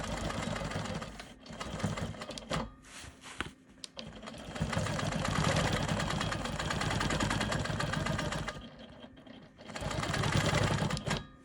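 A sewing machine runs in long steady bursts while quilting an Ohio Star block, stitching in the ditch with brief pauses and restarts between runs, close and fairly loud with no talk.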